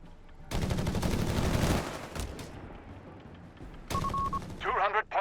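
Rapid bursts of MG42 machine gun fire in the Company of Heroes 3 strategy game, a dense loud rattle for over a second and then scattered further battle noise, with a voice talking over it.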